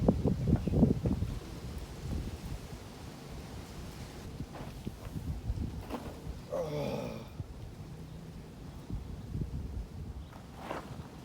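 Wind buffets a handheld camera microphone on an Israeli street, a low rumbling gusty noise that persists throughout, mixed with footsteps and scattered street sounds, with a brief faint voice in the middle.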